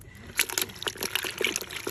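Liquid pours over fresh taki fish in a trickling, splashing stream of small irregular spatters, moderately close and fairly quiet.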